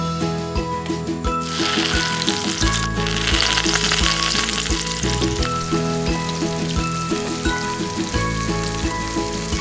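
Cooking oil sizzles loudly and continuously in a tiny pan from a Clover mini kitchen kit, set against a steady background of musical tones, with a few soft clicks and no one talking.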